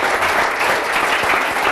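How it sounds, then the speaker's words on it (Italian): Loud, steady applause rises from a gathered crowd at a televised local celebration in Villa Lagarina. The close, continuous clapping fills the short stretch without a break. "le faccio un applauso, ragazzi"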